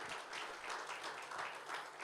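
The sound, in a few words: congregation applause in church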